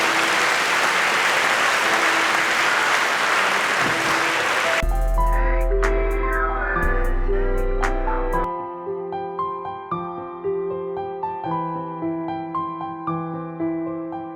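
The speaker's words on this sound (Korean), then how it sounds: "큰 박수 해주시기 바랍니다" Wedding guests applaud at a church wedding ceremony: a dense, steady wash of clapping for about five seconds, then it stops as organ or piano music takes over.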